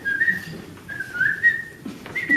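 A storyteller at a live young storytellers' event in Birmingham whistles a short wavering tune, a clear thin melody of several held notes with brief breaks, close and alone over faint room noise.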